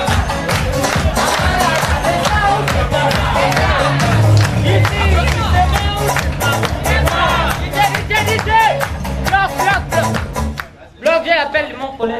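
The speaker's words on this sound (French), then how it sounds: "je souhaite que vous puissiez suivre la prestation sous vos acclamations de Chambre à louer" A festival crowd at a May Day celebration cheers and claps loudly for the act Chambre à louer, with whoops and shouting under a constant roar. It cuts off briefly near the end, then resumes.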